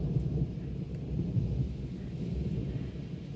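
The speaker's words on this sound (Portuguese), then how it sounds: "Olha o trovão." Low, rolling thunder rumbles through a rainstorm, a continuous deep roar with steady rain hiss underneath and no voices.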